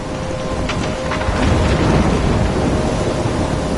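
Thunderstorm in the Life is Strange video game: heavy, steady rain pours over a deep rolling rumble of thunder that swells midway, loud and continuous, with no voices.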